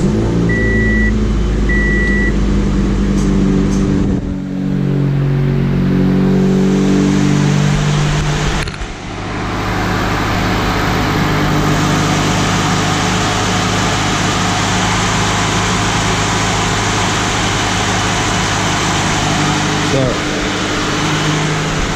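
Aftermarket eBay electric radiator cooling fans on a supercharged Pontiac Vibe run with a loud, steady whirring drone and a low hum, with a brief shift in pitch partway through. Someone speaks over the noise.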